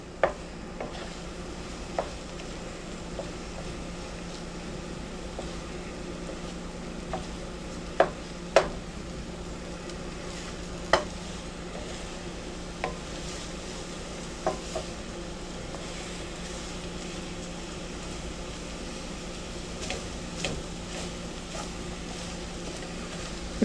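Scrambled eggs with radish greens are stirred in a pan on the stove, making a steady soft sizzle with scattered light scrapes and taps of the utensil against the pan, and no talking.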